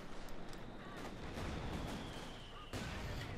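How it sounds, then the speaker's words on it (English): A mortar shell explodes in Company of Heroes 2, killing a grenadier squad in a village battle; dense booming blasts and crackling gunfire fill a steady, loud wartime din throughout. "Grenadiers wiped by a mortar hit there."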